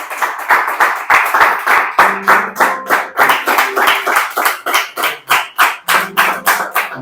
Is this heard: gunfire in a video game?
no